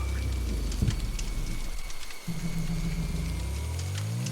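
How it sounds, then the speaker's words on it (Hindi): Heavy pouring rain hisses in a dense, loud, continuous wash with a low rumble underneath, unbroken throughout. "मूसलाधार बारिश शुरू हो गई।"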